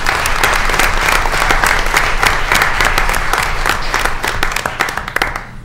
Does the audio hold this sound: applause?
yes